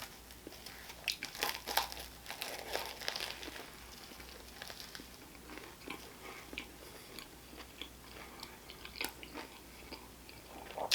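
Close, wet chewing and crunchy biting of a sausage and peppers sandwich with cheese on Italian bread, soft irregular mouth sounds with occasional crisp crunches and crinkles, no talking.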